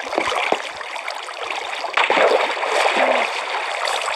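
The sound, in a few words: flowing water in a video game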